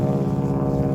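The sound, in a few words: airplane passing overhead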